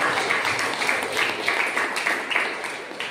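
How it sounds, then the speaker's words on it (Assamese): A church congregation claps together in a steady, rhythmic beat, many hands striking in unison throughout, fairly loud and sustained with no talk over it. "বলা আমি তালি বজাই"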